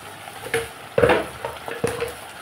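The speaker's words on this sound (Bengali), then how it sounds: "এখন আমি আলুটাকে মশলার সাথে ভালোভাবে কষিয়ে নেব।" Spatula stirring and scraping potatoes with turmeric and salt in hot oil in a pan, irregular scrapes and taps over a soft continuous sizzle, close by.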